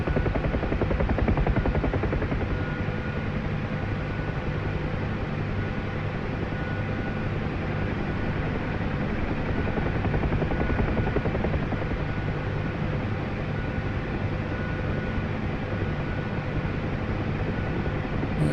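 Huey helicopter rotor and turbine engine in the DCS World flight game, a steady loud drone with a constant rotor thump and engine whine holding evenly throughout, no voices.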